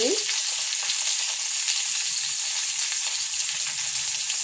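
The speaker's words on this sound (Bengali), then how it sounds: "হলুদ আর নুন দিয়ে আমি উচ্ছেটা ভেজে নেব।" Bitter gourd fries in oil with salt and turmeric, making a loud, constant, close-up sizzle with soft stirring and no voices.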